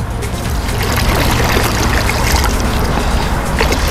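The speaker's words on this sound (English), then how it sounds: "slap the water with your foot" A swimmer in open water, training for triathlon, kicks and slaps the water with pointed feet, making a steady, loud, close wash of splashing and churning that runs without a break.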